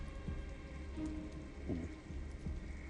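A rainstorm in Detroit: Become Human hisses steadily, with faint low thunder rumbles and scattered drips, and no voices.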